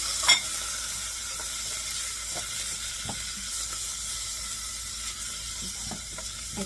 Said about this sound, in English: we're going to dump in our beef bones and kind of let them cook before we add in the broth